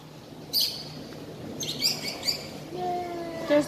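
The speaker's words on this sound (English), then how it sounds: "There's birds up there." Birds chirp outdoors in Valencia, Spain, a few short bright tweets scattered over the moment, moderately close, with a low steady background hum.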